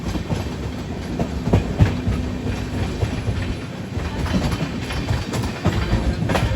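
Prashanti Express train running on rails, a steady rumble with repeated clickety-clack wheel beats on the track, heard continuously.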